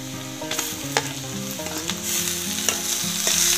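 Onions go into hot oil in a pan, already used for frying grasshoppers, and crackle in a loud, close, continuous sizzle with stirring, alongside steady tonal background sound.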